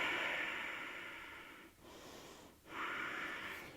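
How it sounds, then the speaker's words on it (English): Long, breathy exhalations during a yoga stretch, a soft airy rush close to the ear that fades, pauses briefly twice, then swells again, quiet and with no voices. "breathe out"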